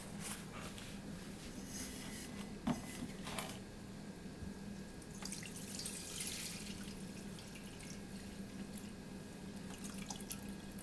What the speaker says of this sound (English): So let's strain out the lemons.